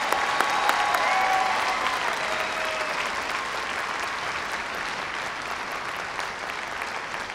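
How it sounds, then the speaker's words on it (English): Sustained applause from a large graduation commencement audience honoring doctoral recipients, a dense steady wash of many hands clapping that stays loud throughout, with faint crowd murmur underneath. "how about one more round of applause for all of our doctoral recipients today?"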